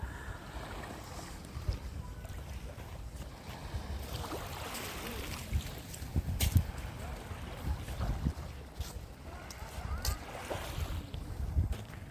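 Sea waves and wind along the Odesa shore in winter, a steady broadband wash of surf with gusty wind rumble throughout, fairly close and continuous, with no talking.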